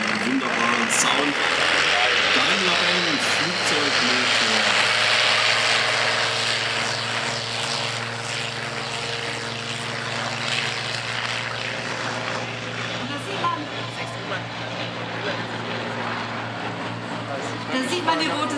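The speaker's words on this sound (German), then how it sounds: "Das waren jetzt übrigens ein 12-Zylinder-Motor." A 12-cylinder propeller aircraft engine, a Messerschmitt Me 109, roars loudly as it powers up for takeoff and pulls away, a deep droning throb that gradually recedes, with voices talking over it.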